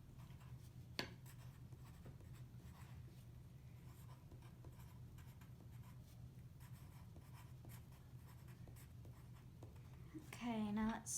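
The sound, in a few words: handwriting notes about peas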